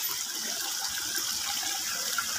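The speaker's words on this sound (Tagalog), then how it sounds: "Sibol yan na nanggagaling sa taas ng bundok." Mountain spring water flows in a continuous, even rush and gurgle, steady and moderately close throughout with no voices.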